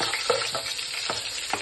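Coarsely crushed spice mix sizzles in a pan of hot tempering oil for a bottle gourd and toor dal pulusu, a steady close frying hiss broken by a few soft scraping stirs.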